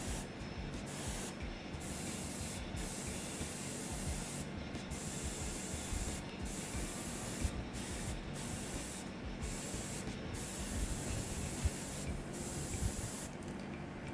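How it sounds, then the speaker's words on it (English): Continuous close hiss of an aerosol spray painting a Warhammer miniature's flame with fluorescent paint, broken by short regular pauses between bursts, with no talk. "I'm spraying from an angle here so that I can re-emphasize these creviced areas of this flame"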